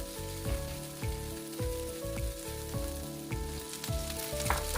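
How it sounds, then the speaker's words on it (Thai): Minced garlic sizzles and crackles in a hot pan as it is stir-fried for a chicken breast and sesame dish, a close, continuous fry broken by repeated scraping stirs of a utensil. "พอใส่กระเทียมสับลงไปแล้วนะคะ เราก็จะผัดให้กระเทียมเนี่ยมีกลิ่นหอมกันก่อนค่ะ"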